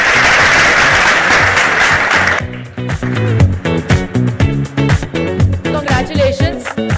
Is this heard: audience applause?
yes